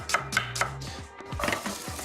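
A knife chops an onion finely on a wooden board, giving a quick run of crisp, close taps in uneven clusters, then a brief pause before another flurry of cuts, with no talking.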